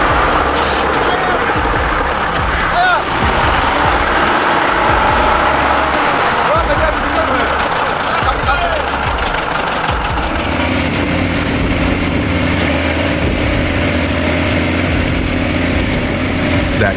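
A K700 tractor rated at 430 horsepower labours in a muddy field, its heavy diesel engine droning and straining loud and continuous, with a hiss of air release and a deeper idle settling in near the end.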